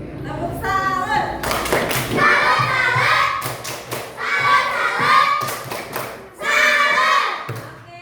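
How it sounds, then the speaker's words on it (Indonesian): A class of children performs the 'tepuk salut' clapping routine in a school lesson, with bursts of group claps and thumps alternating with chanted children's voices in a lively rhythmic pattern. "Tepuk salut."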